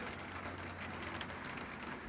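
Steady rain falls on a farm where a cotton picker waits for transmission repair, a constant patter with close drops hitting a surface and no voices.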